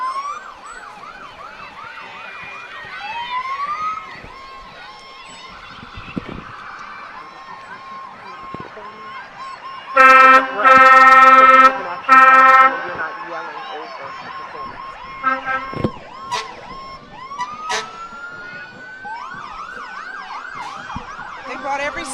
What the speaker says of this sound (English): They brought every siren out of Riceboro and Midway tonight, it sounds like.